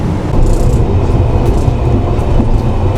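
A luxury sleeper train from London to Scotland rumbles along the rails, a loud, continuous low roar with faint rattling on top, close and steady throughout.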